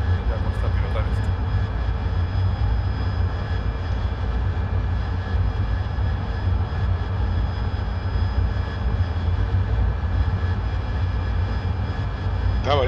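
AV-8B Harrier jet engine in the DCS flight simulator video game: a steady, loud, droning roar with a constant whine on top, continuous throughout, with voices talking over it.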